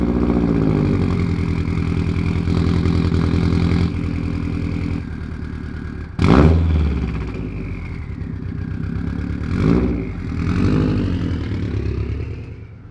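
A Subaru WRX STi engine runs steadily at a low, even idle, with a brief sharp surge partway through and a couple of softer rises later, close and continuous throughout.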